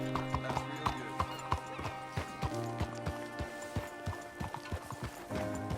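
A horse gallops in the video game Red Dead Redemption 2, its steady rhythmic hoofbeats fairly quiet over a continuous musical drone, with no talking.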